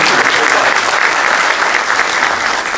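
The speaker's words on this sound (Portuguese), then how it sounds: "Palmas." Steady, dense audience applause fills an indoor hall in Brazil, many hands clapping continuously and loudly at a luncheon event, with no talk over it.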